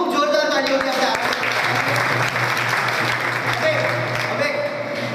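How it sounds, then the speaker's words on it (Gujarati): Enthusiastic applause from a Kutch Gurjar Jain community gathering in Andheri, many hands clapping in a loud, dense burst that slowly eases, with a low steady hum and faint voices beneath. "ખૂબ જોરદાર તાળીઓથી આપણે"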